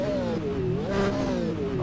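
Engine of a JGTC Nissan Skyline BNR34 in a racing simulator at Suzuka Circuit, holding a steady mid-rev drone that rises and dips slightly, close and continuous.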